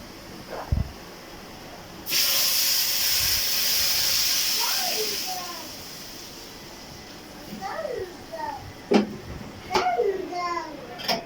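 Chopped onion and tomato hit a hot pan and sizzle loudly for a few seconds, then the sizzle fades to a quieter fry while a voice talks over it near the end.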